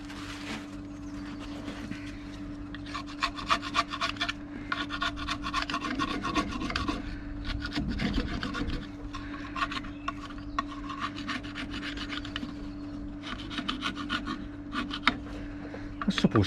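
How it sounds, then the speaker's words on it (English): Caked muck being scraped off a Range Rover L405 EGR pipe, a series of rough rasping strokes in bursts, close and moderately loud over a steady workshop hum. "I'll probably just scrape most of the muck off that."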